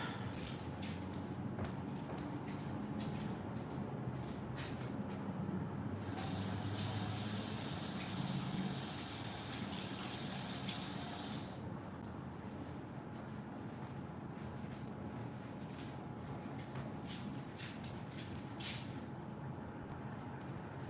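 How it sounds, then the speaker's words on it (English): Tap water gushes steadily into a sink for about five seconds while hands are washed in a home kitchen, set against a low background hum and scattered small clicks before and after. "I need to wash my hands"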